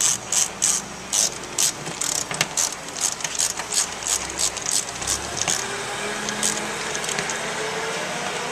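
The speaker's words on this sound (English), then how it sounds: "We're going to start all 3 armrest screws loosely and then go ahead and snug them up." Door panel armrest screws on a custom vinyl panel are snugged down with a ratcheting tool, giving bursts of rapid clicking in an uneven rhythm, loud and close, then fading into quieter handling noise.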